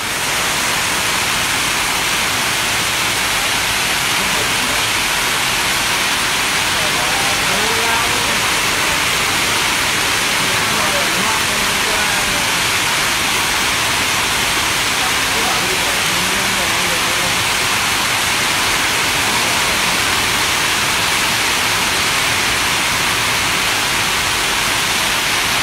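Steady rain pours outdoors in an unbroken, loud hiss that never lets up, with faint voices occasionally buried beneath the downpour.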